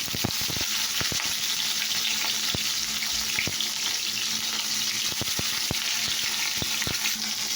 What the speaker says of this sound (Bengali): করলাটা প্রথমে একটু ভেজে নেবেন